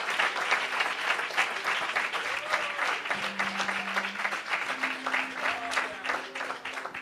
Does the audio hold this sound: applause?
yes